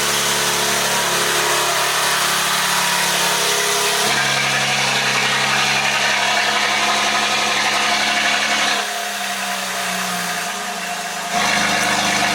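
A 2025 BMW G80 M3 engine idling, a loud, steady close-up drone with a slight dip in pitch near the end before settling back.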